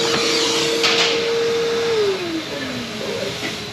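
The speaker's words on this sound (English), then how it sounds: "Just want to vacuum the area of all road debris." A shop vacuum sucks road debris out of the engine area of a car, a steady loud whine with brief rattling pickups, its motor pitch sagging as it slows near the end.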